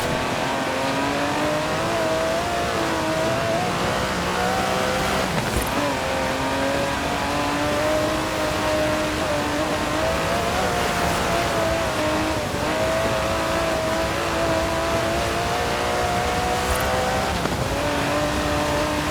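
Aston Martin DB11 5.2-litre twin-turbo V12 revving in the Forza Horizon 4 racing game, a loud, steady engine drone rising and falling through gear shifts with brief tire noise, continuous for the whole stretch and alone.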